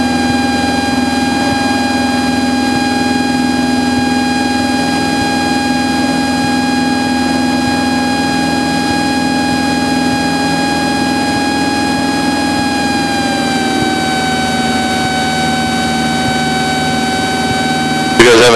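A Cessna 172 light aircraft flies the crosswind traffic pattern at Kenosha (KENW), its piston engine and propeller a loud, steady droning hum heard from inside the cabin, with the pitch shifting slightly about two-thirds of the way through.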